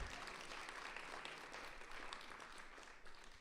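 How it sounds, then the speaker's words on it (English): An audience at a talk applauds in a dense, even wash of clapping that holds steady for a few seconds, distant and fairly faint. "Let's also give a big round of applause to the man behind the camera"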